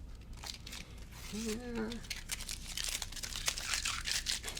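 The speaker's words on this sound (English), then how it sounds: "So now it's time to remove the tape." Adhesive tape peeling off woven fabric in broad crinkling, tearing strips, close and moderately loud, with a brief spoken word partway through.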